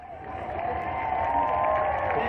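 A crowd at a Merrittville dirt track race cheers in a sustained, moderately loud swell that holds steady the whole time, with no clear voices on top.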